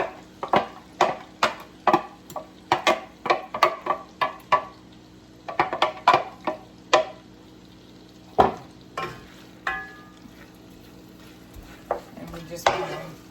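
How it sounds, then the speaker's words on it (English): Sliced onions tossed into melted butter in a pan, a series of sharp clattering knocks and scrapes of the utensil over a faint steady sizzle, with no talk. "Now we're just gonna toss our onions in here."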